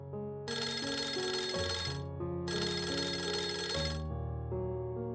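An outgoing call rings through on a telephone: two long, bright, buzzing rings about one and a half seconds each, separated by a short pause, clear and fairly close with a soft hum between them.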